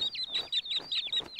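Baby ducks in a Regular Show cartoon give a rapid series of high, bright peeping quacks, about eight or nine evenly spaced chirps in quick rhythm, loud and close with nothing else behind them.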